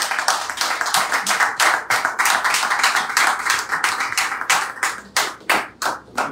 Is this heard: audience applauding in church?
yes